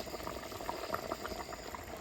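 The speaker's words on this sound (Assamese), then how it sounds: "এফালে আমাৰ আঞ্জা উতলি আছে" Curry boiling in a pot in a home kitchen, a steady close bubbling and simmering that runs throughout with no talk.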